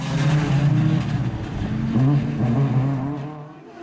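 Rally car on stage 5 of a winter rally round at Aghadowey, engine revving hard and accelerating close by with a steady roar that dips and rises through gear changes, no talk.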